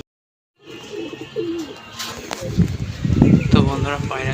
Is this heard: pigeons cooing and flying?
yes